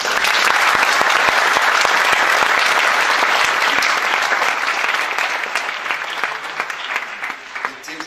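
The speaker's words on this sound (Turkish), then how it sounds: "Alkışladılar sizleri." An audience at a poetry talk in Kayseri breaks into loud, continuous applause, many hands clapping close and steady before it gradually thins toward the end.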